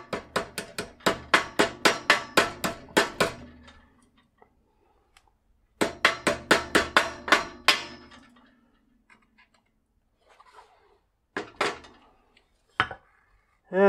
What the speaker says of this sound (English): Can somebody please hold the bicycle while I tab the hammer?